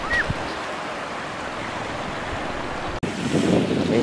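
Sea waves washing onto a coral shore in Indonesia, a steady broad wash of surf mixed with wind rumble on the microphone, brief dropout then a fuller swell near the end, with no talk.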